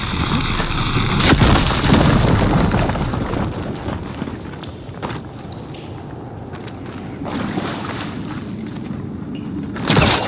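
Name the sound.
explosion from blowing up fire gleam in Horizon Forbidden West video game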